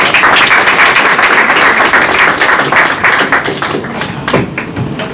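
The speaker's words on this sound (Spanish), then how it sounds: "Fuerte aplauso." Dense, continuous applause from a seminar audience on startups and technology, loud and sustained for the whole stretch, with many overlapping claps and no pauses.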